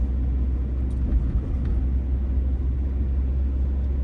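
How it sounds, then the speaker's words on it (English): A car driving down Haverford Avenue in Philadelphia makes a steady low rumble of engine and road noise from inside the cabin, continuous and moderately quiet, with a couple of faint ticks and no voices. "We're driving down Haverford, passing 59th Street."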